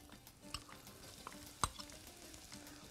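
Carrots tipped into a hot pan hiss and crackle quietly as they are stirred, with occasional sharper clicks of the utensil against the pan.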